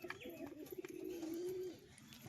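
A breeding pair of pigeons, a male and a female, coos once in a low, drawn-out, gently wavering tone that is fairly soft and close. No other sound competes with it.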